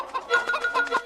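Farm chickens clucking in a quick, busy run of short, close, moderately loud calls over about a second, with no talk.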